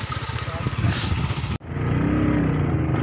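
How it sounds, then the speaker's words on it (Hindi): A motorcycle engine runs nearby with a throbbing, rhythmic idle that drops out abruptly and then resumes steadier, while people talk over it. "वो ये मेरा ही मोटरसाइकिल है ना"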